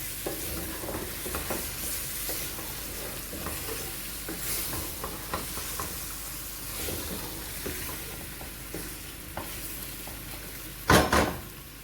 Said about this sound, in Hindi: अभी गैस को मैंने हल्का किया है, इसकी भुनाई करेंगे।